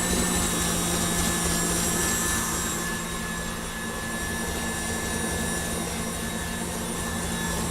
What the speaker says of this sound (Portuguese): Vou ligar a batedeira novamente e vamos bater mais um pouquinho.